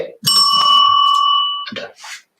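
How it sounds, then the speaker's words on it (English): A bicycle bell rung once up close, a bright sustained ring that decays over about a second, followed by a short second ding and brief breathy noise. "You got me the bell so I could use the bell"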